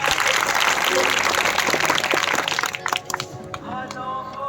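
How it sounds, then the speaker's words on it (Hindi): A large audience at a celebration event claps in a loud, dense burst that holds for a few seconds, then thins into scattered individual claps as a voice begins speaking. "अब 1 लाख के लिए ताली बजेगी।"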